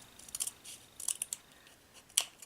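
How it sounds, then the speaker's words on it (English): Scissors snip a thin strip off craft material for a no-sew hat: a few sharp, close metallic clicks in small clusters, separated by quiet pauses, with no voices. "this one I'm going to cut like that, and I'm going to cut off a thin strip of it"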